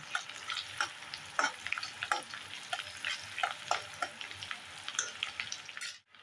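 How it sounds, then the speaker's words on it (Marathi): Idli chilli with green chillies fries on a high flame, a close sizzle broken by repeated rhythmic spatula scrapes and taps against the pan before the sound cuts off abruptly. "आपण याच्यातच आता मिरच्या घालून घेऊया आता मोठ्या गॅसवरच हे चांगलं फ्राय करायचं आहे"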